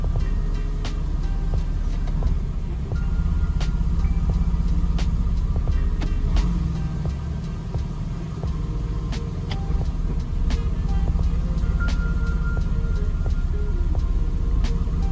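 A Porsche engine idles steadily in neutral with a low, continuous rumble that swells slightly as the revs rise, heard up close with no talking over it.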